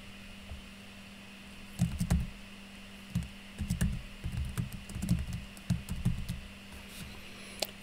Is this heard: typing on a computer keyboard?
yes